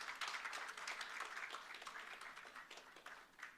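A crowd at a public event in Bihar keeps up sustained applause, a dense, even wash of clapping heard from a distance.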